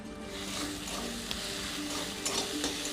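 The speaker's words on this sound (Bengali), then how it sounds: "মশলাটাকে খুব সুন্দর করে ভেজে নেব" Ground spices sizzle and fry in a pan with turmeric, Kashmiri chili powder, salt and a little sugar for a Bengali egg curry, a steady close crackle with faint stirring scrapes throughout.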